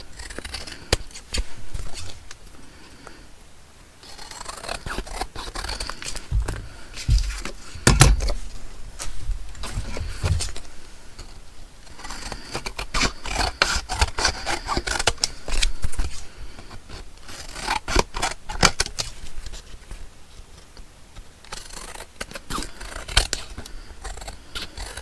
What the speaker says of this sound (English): so now we'll just trim the excess backing folder off here